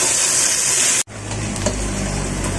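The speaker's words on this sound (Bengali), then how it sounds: "এগুলোকে এখন হালকা গোল্ডেন করে ভেজে নেব।" About a cup of chopped onions fries in oil until light golden for morog polao, a steady close sizzle that breaks off for an instant and then carries on evenly.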